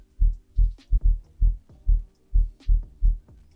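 A drum and bass womp bass patch made in the Serum wavetable synth, with subtle harmonics, throbs as deep low pulses roughly every 0.4 seconds in a steady wobbling rhythm, played alone.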